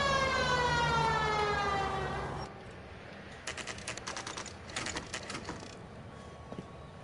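A police car siren in the L.A. Noire video game wails loudly for about two seconds and winds down to a stop, followed by scattered quiet clicking.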